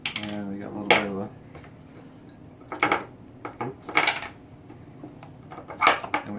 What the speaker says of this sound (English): now we're going to insert that into the needle bearing